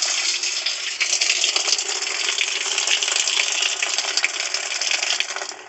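A Whirlpool washing machine fills with cold water during its automatic test cycle, a steady, loud rushing gush that runs without pause before easing off at the end.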